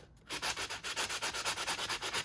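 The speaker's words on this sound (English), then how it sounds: "I'm going to use one of my little sanding blocks" A small sanding block scrapes back and forth across embossed paper, about a dozen quick, even rasping strokes up close after a brief quiet start.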